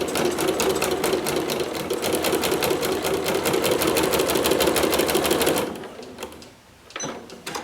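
Sewing machine fitted with a ruffler foot stitching gathered ruffles into fabric, a loud rapid mechanical chatter running steadily for over five seconds before stopping, followed by a few faint clicks and handling noises.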